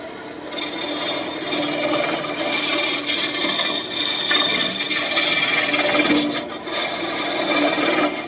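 A roughing gouge cuts a spinning birch wood blank on a wood lathe, making a steady, loud, close-up rasping scrape that runs continuously with one brief dip near the end.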